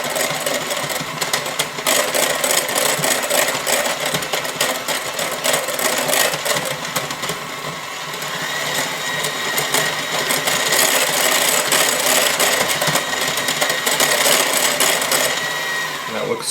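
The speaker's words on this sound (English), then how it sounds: "Now I'm going to increase my mixer again." Electric hand mixer beating chocolate cake batter at a higher speed, a steady loud motor whir with rattling beaters running continuously without pause, no talking.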